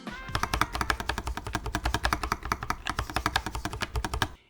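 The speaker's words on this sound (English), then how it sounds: "NuPhy's Ghost Bar is heavenly and sounds fantastic." Rapid typing on a NuPhy Air96 V2 low-profile keyboard, including its Ghost Bar spacebar, producing a dense, steady stream of crisp close-up keystroke clicks with no talking.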